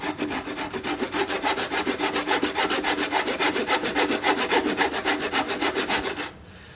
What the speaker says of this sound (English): you do need to learn how to cut at an angle like this